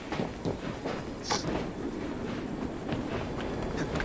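A train in Assassin's Creed Syndicate rolls along with a steady low rumble and rhythmic rattling clatter, with a brief higher squeal early on.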